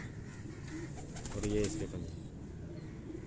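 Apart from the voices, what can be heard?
pigeon cooing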